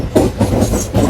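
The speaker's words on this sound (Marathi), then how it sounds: "इकडे ट्रेन आहे आमच्या समोर बरोबर जॉईंट आहे ट्रेनचा" A train rolls past close by near Nallasopara, its wheels beating a steady, rhythmic clickety-clack over the rail joints with a loud, full rumble throughout.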